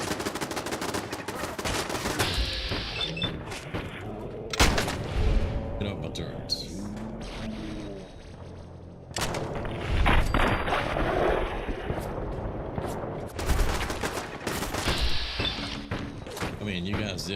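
Rapid turret gunfire in the video game Fallout 4 rattles in dense, repeated bursts across the whole stretch, loud and close, mixed with game effects and a voice talking over it.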